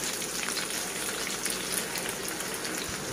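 Onions sizzle in hot coconut oil in a cast iron kadai, a steady dense crackle and hiss that runs close and even throughout, with no voices.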